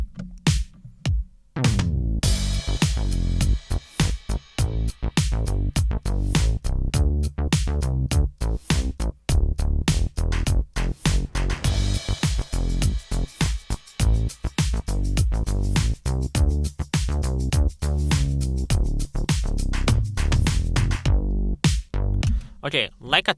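A produced bass line with drums in a music production project: punchy low notes under crisp beat hits, looping at a steady tempo, loud and dense with short breaks near the start and end.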